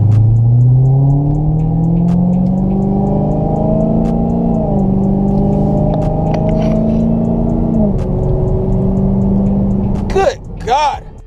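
Dodge Charger SRT Hellcat engine accelerating hard from up close, a loud rising whine and roar that climbs through several gear changes, with a brief burst of voices near the end.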